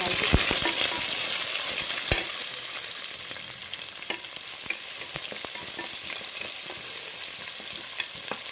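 Shallots sauté in a pan for a brinjal gravy, a loud, bright hissing sizzle that eases slightly over time, punctuated by sharp clicks and taps from a stirring utensil, with no voices.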